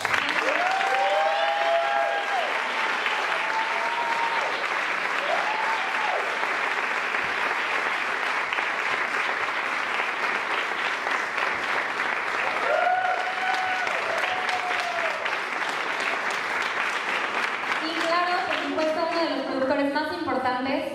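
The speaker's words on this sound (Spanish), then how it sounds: "Pedimos un fuerte y cariñoso aplauso para recibir a la actriz y cantante Ana Cecilia Saldúa." A theatre audience at a musical comedy event gives sustained, steady applause for about twenty seconds, with a voice speaking briefly over the clapping now and then.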